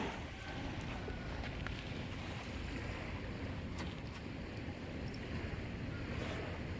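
An old boat speeds away across the sea near the Ao Po pier in Thalang, Phuket, making a steady rushing roar of engine, water and wind that stays loud and even throughout.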